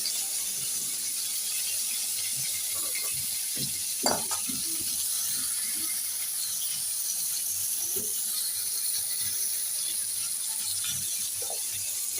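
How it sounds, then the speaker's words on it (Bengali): Vegetables fry in a pan with a constant, even sizzling hiss, while occasional scrapes and knocks of a stirring spoon rise briefly above it, one sharper knock near the middle. "সুন্দর করে ভাজি করে নিচ্ছি"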